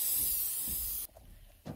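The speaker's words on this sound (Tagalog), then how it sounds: "Mag-spray tayo netong butter." Butter cooking spray hisses in a steady, close burst onto a pancake pan set on a wood stove at a cold camp, then cuts off, followed by a couple of faint clicks and knocks.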